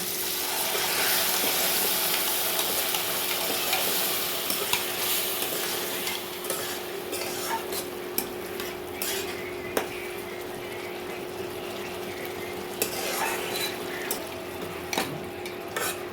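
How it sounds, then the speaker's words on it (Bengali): Tomato paste frying in a pan for vegetarian chili paneer, a continuous hiss and sizzle with repeated spatula scrapes and occasional clinks against the pan, close and steady with no talk. "এবার টমেটো যতক্ষণ না কাঁচা গন্ধটা চলে যায় ততক্ষণ একটু ভালো করে ভেজে নেব"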